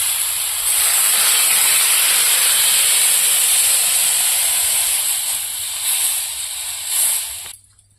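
Water poured into a frying fish-and-plantain curry, bursting into a loud continuous steam hiss that holds for several seconds before dying away.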